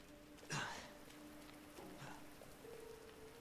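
Rain falls in the Resident Evil 2 video game as a soft, steady patter, faint and even throughout, with a brief louder swish near the start.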